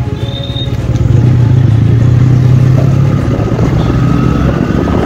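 Motorcycle engine droning loud and close while riding in a group ride, a steady mid-pitched hum with wind rush that swells after the first second and holds constant.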